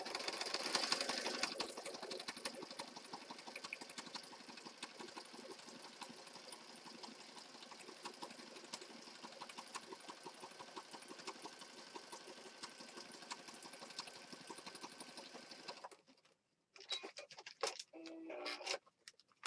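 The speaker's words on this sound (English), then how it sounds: "I love this machine because it's got an automatic threader and it's got an automatic thread cutter." A sewing machine with an automatic threader and thread cutter runs steadily for about sixteen seconds, stitching junk journal pages with a fast, even whirring patter. It then stops, and a few brief handling noises follow.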